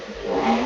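Brief rev of a Vauxhall Agila engine with the exhaust backbox deleted, a loud, close, raspy rise in pitch that holds steady for under a second.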